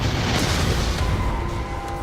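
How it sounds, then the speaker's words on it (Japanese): Big explosion in a horror tabletop-style video game, a deep rumbling blast with crackling debris filling the whole moment, loud and sustained, no talk over it. "予想以上に大爆発が起こってる。"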